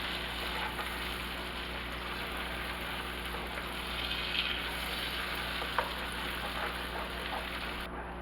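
Caramel apple cake mixture sizzles and bubbles in a hot pan while it is stirred, a constant close frying hiss with a few faint scrapes and pops, no talk.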